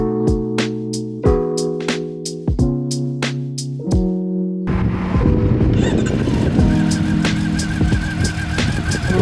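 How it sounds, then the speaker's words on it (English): A training motorcycle's engine starts up and settles into a loud, steady idle with a throbbing, rhythmic pulse, preceded by several sharp clicking knocks. "and then start the engine"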